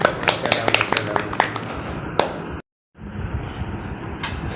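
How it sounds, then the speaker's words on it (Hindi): Applause for a young girl named Aisha at a family gathering: a dense, steady patter of many hands clapping close by, breaking off into brief silence before the clapping resumes. "आयशा बेटी के लिए बहुत बहुत सारी तालियां।"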